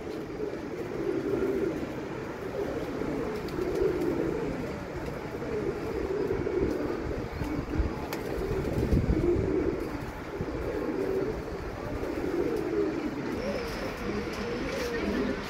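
Soft, low cooing of a female racing pigeon rises and falls in repeated waves over a steady background murmur, close and continuous throughout.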